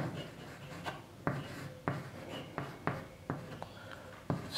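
Pen or pencil writing on paper during a class 8 maths lesson on pie charts, a series of short scratchy strokes and taps at a steady, close, quiet rhythm with no talking.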